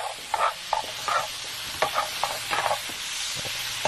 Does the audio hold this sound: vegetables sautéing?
yes